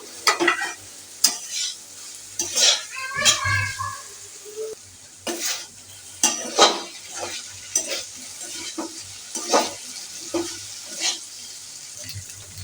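Okra bhaji fries in an uncovered pan on the stove, with a soft steady sizzle under repeated scraping strokes of a spoon stirring the pan, close and moderately loud.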